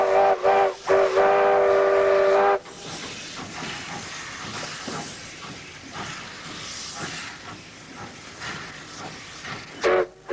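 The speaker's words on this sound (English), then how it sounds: "coal-powered steam locos hauling coal from the coalfields around Newcastle" A coal-powered South Maitland Railway steam locomotive in Australia, hauling coal from the Newcastle coalfields, sounds a long whistle blast and then hisses and chuffs steadily before a brief whistle returns at the end.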